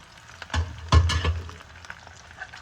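Boiled, chopped chicken liver pieces hitting hot oil with onions, sizzling and crackling in bursts, then settling into a steady, close fry.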